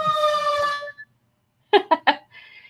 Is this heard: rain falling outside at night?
no